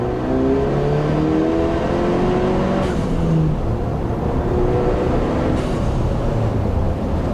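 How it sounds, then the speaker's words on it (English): Ford Bronco with a 2.3L EcoBoost engine and modified exhaust at wide-open throttle, a loud, steady engine drone rising in pitch through two gear pulls with a brief shift break between them. "full on acceleration, wide open."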